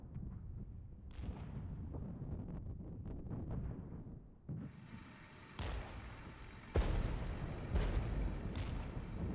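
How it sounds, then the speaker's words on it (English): Enemy artillery fire in the Cold War strategy game Warpath, a run of muffled booms and heavy impacts, several sharp bursts standing out over a rumbling battle background, fairly distant and with no talk. "Enemy artillery coming in again."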